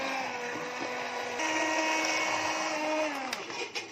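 Electric mixer beating butter and sugar for Eid cookies, a steady close motor whine that rises in pitch midway and wavers near the end as the beaters shift through the mixture.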